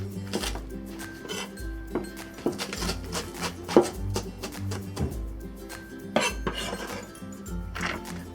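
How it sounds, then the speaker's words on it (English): A knife minces green onions for a Cantonese seaweed tofu egg drop soup, with quick, uneven chopping taps and light clinks of kitchenware close by. "And for the green onions, we'll just mince it."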